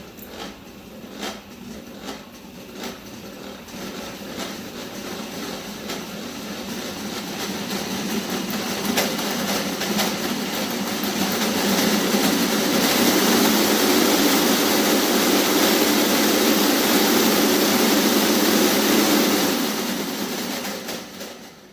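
An aircraft radial engine demonstration model turned over without combustion, giving a continuous mechanical whirring and rattling that builds in loudness, holds steady near the listener and eases slightly toward the end.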